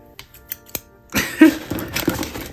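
Scissors snip and slice through a large package box, starting with a few sharp isolated clicks, then a dense stretch of scraping cutting and crinkling close by.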